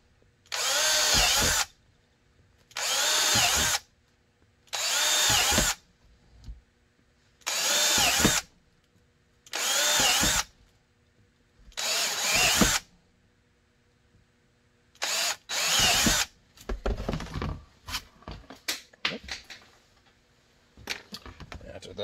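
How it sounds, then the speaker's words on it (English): A power drill boring quarter-inch holes in a holster, seven loud, close bursts of whirring about a second long with short quiet gaps between them, then scattered clicks and handling rattles. "So these are going to be quarter inch drills. So I'll go ahead and knock that out right now."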